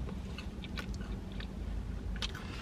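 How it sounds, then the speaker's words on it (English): Biting and chewing on a Taco Bell Crunchwrap, with close, crunchy mouth sounds repeating steadily over a low background, no talk. "let's dig into this crunch wrap."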